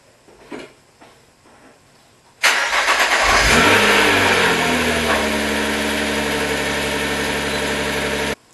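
A Nissan GT-R R35 cranks and fires after an oil change, with a loud start and brief surge, then settles into a steady, close idle that runs to the end.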